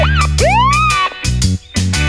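Toy fire engine siren sounding loud and close in wavering, rising electronic tones, broken by short gaps across about two seconds.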